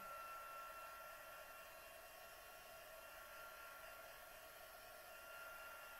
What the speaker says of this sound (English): I'm going to shoot this with the heat tool, just to make sure that it is completely dry.